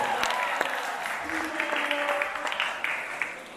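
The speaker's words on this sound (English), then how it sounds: "Give them a round of applause, everybody" Audience at a Palau school International Day show applauding the students, steady clapping with scattered cheers and crowd murmur that thins toward the end.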